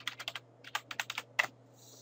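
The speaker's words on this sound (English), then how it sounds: "Type your password." A password is typed on a computer keyboard in a quick, quiet burst of key clicks: a short run, a pause, then a few more presses and one firmer keystroke.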